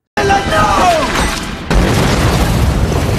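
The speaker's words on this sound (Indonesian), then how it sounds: "pesawat tempur Jerman datang menjatuhkan bom secara brutal" Bombs dropped by German fighter planes in a war film scene, heard as a loud close blast and heavy rumbling boom following a shrill descending whistle, with no talk over it.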